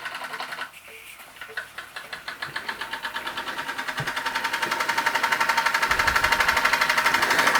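A Weeden No. 79 model steam engine runs with a fast, even mechanical chuffing that speeds up and grows steadily louder after a brief pause near the start, close up and alone.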